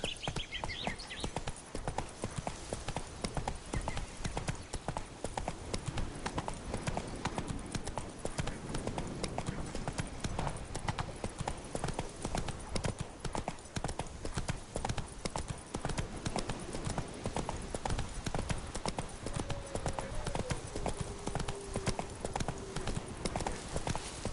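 Galloping horse hooves in The Witcher 3 on PS5 keep up a steady, rapid clip-clop for the whole stretch. A rider's short shouts come up briefly over the continuous rhythm.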